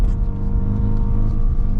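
A Mazda RX-7 rotary engine droning and revving while driving, a loud close low hum with steady tonal harmonics from inside the car, with a hard, rough note from a failing spark plug.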